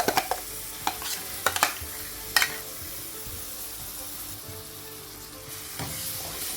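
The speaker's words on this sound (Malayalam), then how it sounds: "നമ്മൾ അരച്ച് വെച്ചിരിക്കുന്ന പേസ്റ്റ് ചേർത്ത് കൊടുക്കുക" Ground onion-tomato paste for egg curry fries and sizzles steadily in a hot pan, with a few sharp scraping clinks of a stirring spoon early on.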